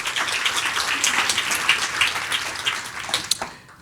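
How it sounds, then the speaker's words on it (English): An audience at an evening health awards gala gives a round of applause: sustained, dense clapping that swells and stays steady for several seconds, then thins out near the end. "Give them a round of applause."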